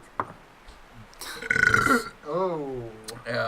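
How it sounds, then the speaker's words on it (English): A single loud, close burp from a person, a short rumbling eructation followed by a tonal voiced sound. "Burp."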